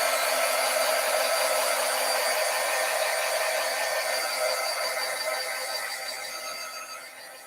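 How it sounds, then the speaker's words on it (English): A handheld heat tool blows steadily to dry ink on a craft stencil, a continuous loud whirring hiss with a faint whine that holds for several seconds and then gradually fades. "I'm going to use my heat tool, and I am going to help dry this ink just a little bit."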